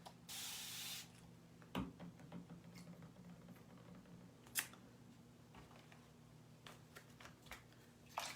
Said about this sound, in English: Spray this off.